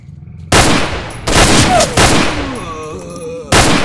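Automatic weapon fire in the video game STALKER: Call of Pripyat with the MISERY mod, loud close bursts of shots arriving in several separate volleys with brief gaps and echoing tails between them.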